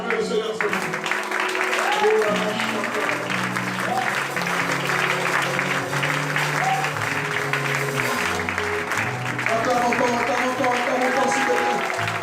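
Congregation at a prayer rally applauding steadily and loudly throughout, with cheering voices and music mixed into the sustained clapping.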